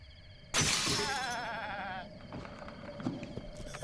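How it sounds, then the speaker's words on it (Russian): A goat in the video game Zelda: Breath of the Wild lets out a single loud, wavering bleat that trails off over about two seconds, followed by faint game sounds. "Козел, давай убьем козла."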